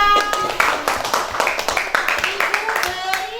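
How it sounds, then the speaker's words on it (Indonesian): A classroom of students claps for a presenting group in a crisp, rhythmic burst of fairly close handclaps, with a sustained tonal hum or voice lingering underneath. "Tepuk tangan untuk kelompok 5."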